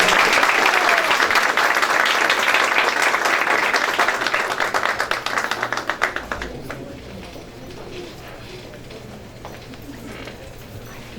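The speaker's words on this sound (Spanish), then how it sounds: "Un aplauso." Loud crowd applause at a book day event, dense clapping for several seconds that thins and fades out, leaving quiet room tone.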